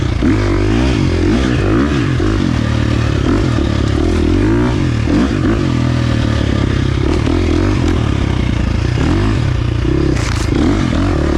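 A 2023 KTM 350 XC-F dirt bike engine runs steady and loud throughout, its pitch stepping up and down as the rider shifts gears, with off-road trail clatter mixed in.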